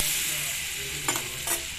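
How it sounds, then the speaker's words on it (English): Zucchini pieces fry in a pan of oil and butter, giving a steady close sizzle with two brief sharper spatters or stirring clicks near the end. "With oil, you can fry your pieces nicely."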